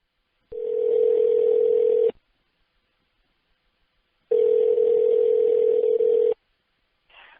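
Two long, steady telephone tones sound when calling a voicemail inbox, each lasting about two seconds and separated by silence, loud and clean with nothing else behind them.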